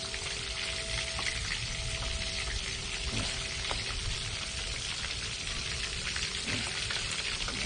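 Bluegill fish fry in a wok with a steady, dense sizzle of hot oil, crackling evenly and close up with no talking.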